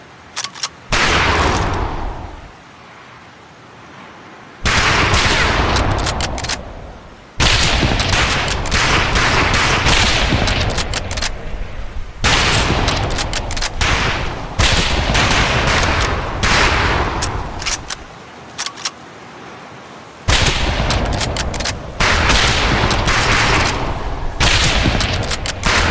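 Rifle fire crackles in repeated sharp bursts across a firing range in Medal of Honor Pacific Assault, loud dense volleys broken by brief quiet gaps between rounds.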